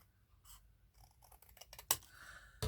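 Scissors cutting through paper card for a papercraft mug, a handful of quiet snips and scraping cuts close by, ending in two sharper crisp snips.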